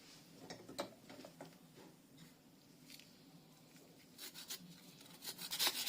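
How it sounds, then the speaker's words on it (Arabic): Turnip is scraped against a grater in a short series of close rasping strokes, faint at first and growing busier and louder toward the end. "غنزيد نحك عليه شويه من هاد اللفت اللي قلت لكم غنحتفظوا به"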